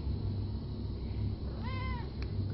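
A shelter cat gives a single clear meow partway through, close and moderately loud over a low background hum.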